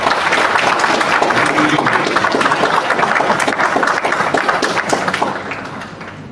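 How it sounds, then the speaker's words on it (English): Sustained audience applause at a rural management conclave held at XIM University, a dense steady wash of many hands clapping throughout, loud and even, easing slightly near the end. "another round of applause to all the audience who participated"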